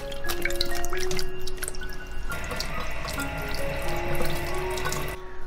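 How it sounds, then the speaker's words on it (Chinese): Tap water running into a sink over bamboo shoots for soaking, a continuous close splash with dripping and shifting tone as the bowl fills. "竹笋加入半勺盐，用清水浸泡10分钟。"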